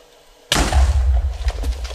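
A loud explosion in Minecraft with the Fossils & Archeology mod: a sudden blast from silence, then a sustained deep rumble and crackling debris that fades over about a second and a half.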